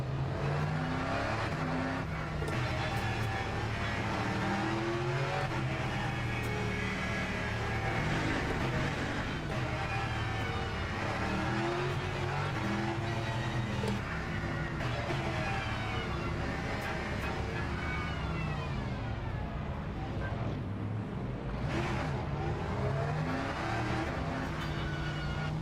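Race cars in Le Mans Ultimate launch from a standing start, engines revving hard and roaring together with continuous loud acceleration and occasional tire squeal throughout.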